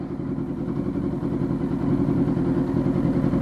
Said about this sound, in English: A funeral procession with a fucking loud ass bike behind it.